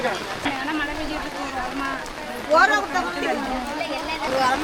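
Heavy, wind-driven rain falls steadily during an outdoor blanket handout to elderly people in the Netherlands. Several people talk and chatter close by over the constant wash of rain.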